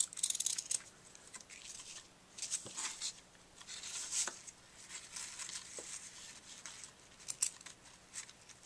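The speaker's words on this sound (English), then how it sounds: "I'm just going to cut these corners at angles" Scissors snipping the corners of a handmade card at angles, a few quiet crisp cuts spaced out between soft paper rustles, close and faint.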